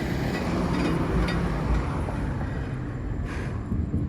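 Nearby passing train making a loud, steady rumbling roar of rolling wagons that fills the whole stretch, with faint squeals above.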